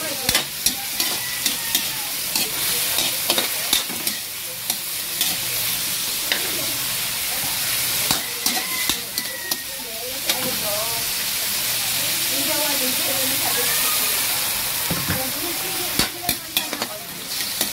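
Chayote stir-fried in a pan with soy sauce and oyster sauce, the spatula scraping and stirring in uneven bursts over a steady low sizzle, with faint steam hiss; close and fairly loud throughout.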